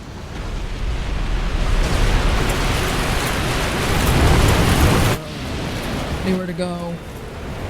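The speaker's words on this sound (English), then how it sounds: "I am in a waterfall" A rushing waterfall in the video game Dark Souls, a broad, loud roar of falling water that ends abruptly, while a voice speaks briefly near the end.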